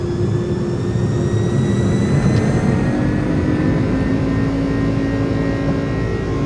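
A FedEx airliner's jet engines roar steadily at takeoff power in Microsoft Flight Simulator, a loud, constant whine over a deep rumble that holds without pause.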